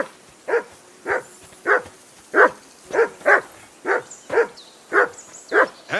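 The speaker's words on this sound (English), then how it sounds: "Whistle at that mutt of yours to stop barking!" Barking from a dog in the medieval open-world game Kingdom Come: Deliverance II, about a dozen sharp, evenly spaced woofs roughly half a second apart, moderately close, with no talk over them.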